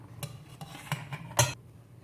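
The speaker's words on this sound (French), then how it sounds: "On mélange la levure avec la farine." Baking powder being mixed into flour for a layer sponge cake, with a utensil clinking and scraping against a bowl in several short, quiet strokes, one stronger knock near the end.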